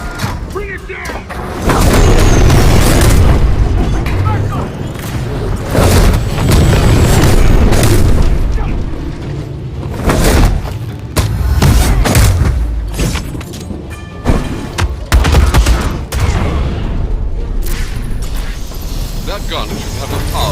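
Anti-aircraft gun fire and explosions in the Batman Arkham Shadow game, heavy booms and rumbling blasts in irregular bursts, loud and close, with sharp cracks scattered across the clip and talking heard in places.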